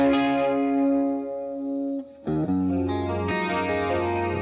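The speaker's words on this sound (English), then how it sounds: "now we're really starting to get some actual chorus sounds" Electric guitar chords played through a Gamechanger Audio pedal running a LFO-modulated chorus, a held chord fading, then new strums and picked notes ringing with a wavering, slightly distorted shimmer.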